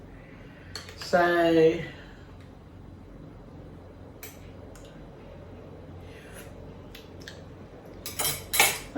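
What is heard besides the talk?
stirring seafood boil soup in a pot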